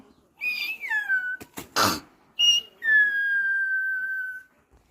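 A person whistles to imitate a bird's call: a few sliding whistled notes and a short breathy burst, then one long, steady whistle that fades slightly. It is close and alone.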